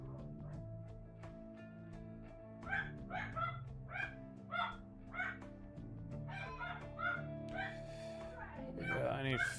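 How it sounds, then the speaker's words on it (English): A pet dog barks in a quick run of sharp, evenly spaced yelps mid-clip, close by and fairly loud, over steady tonal music from a factory-building game. "I'm sure you can hear my dog barking up a storm"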